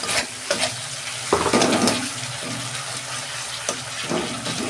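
Spice paste sizzles and fries in a pan while being stirred for a vegetarian potato and pointed gourd curry, with a steady close sizzle and intermittent scraping stir strokes, no voices.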